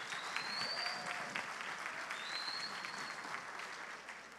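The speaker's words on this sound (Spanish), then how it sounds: "Vamos a darle un aplauso a ITSE" Applause from an audience at a water-treatment forum, steady clapping throughout, heard from a distance and slightly faint, with a couple of whistles over it.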